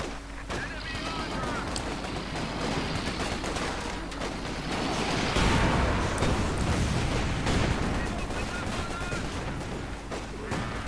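Battle din from Company of Heroes 2: dense, continuous small-arms fusillades mixed with artillery and machine-gun bursts, swelling louder midway, with game voices faintly underneath.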